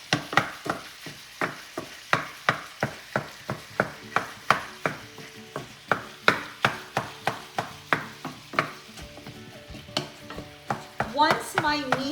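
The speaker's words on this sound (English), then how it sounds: "I have some oil, vegetable oil, that I started heating, and I'm going to be breaking up my meat" Ground meat frying in heated vegetable oil while being broken up, with a steady run of sharp, evenly spaced spatula taps and scrapes over a soft sizzle, close up, no talking.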